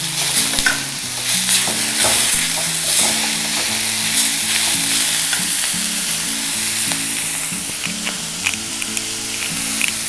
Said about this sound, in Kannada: ಹೀಗೆ ಫ್ರೈ ಮಾಡಿ ತೊಗೊಂಡ್ರೆ ಚೆನ್ನಾಗಿರುತ್ತೆ